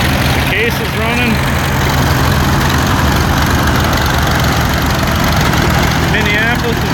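A Case tractor idles at a farm with a steady low rumble. Voices talk loudly over the engine in several spots.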